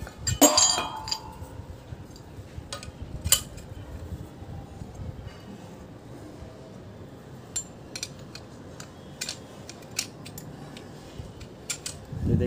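Metal dish TV antenna parts clink and tap as a screw is fitted by hand, with a sharp cluster of metallic clinks early on, then scattered light ticks and rattles over a quiet background.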